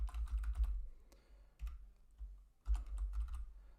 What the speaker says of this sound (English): You can use the arrow keys on your keyboard to move around to make entering data a little bit quicker.